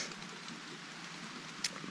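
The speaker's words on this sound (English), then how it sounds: "it is raining, and I'm nice and dry in my tent" Steady rain patters on a tent in the Ouachita National Forest wilderness, a soft continuous hiss heard from inside, with one brief sharper tap near the end.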